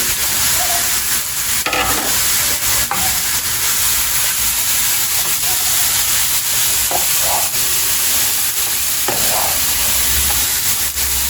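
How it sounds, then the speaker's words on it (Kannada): About five grated carrots fry in a pan for carrot halwa, making a steady loud sizzle with occasional stirring scrapes and clinks throughout, and no talking over it. "ಇದನ್ನೆಲ್ಲ ಹಾಕಿ ಇವಾಗ ಫ್ರೈ ಮಾಡ್ತೀನಿ."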